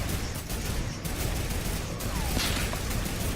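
Rapid gunfire from a battle royale video game in a duo match, a dense continuous rattle of shots with sharp bursts near one and two seconds, loud and close with no talk over it.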